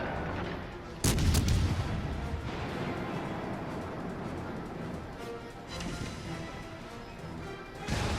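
Battleship main-gun artillery fire in World of Warships, from the premium Tier 7 French battleship Champagne, with one heavy booming salvo followed by a low rumbling roar and a later fainter blast.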